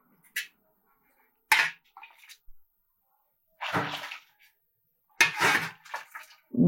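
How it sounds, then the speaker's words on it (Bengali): Water is poured from a measuring bowl into a pot while making bhapa puli: several short separate splashing pours, close and fairly quiet, with silent gaps between them. "এই বাটিতে আমি মেপে 2 বাটি জল দিচ্ছি"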